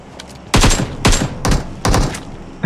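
Gunfire in the video game PUBG, set on the Erangel map: four loud, close bursts of rapid shots crack out in quick succession, each a short volley, with no talk over them.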